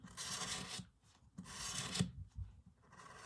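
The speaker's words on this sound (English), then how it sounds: "I've got a black Copic chisel nib, and I'll just fill that straight in" Black Copic chisel-nib marker filling in an area on paper, giving soft, raspy rubbing strokes in three bursts with short pauses between them, close and quiet with no talking.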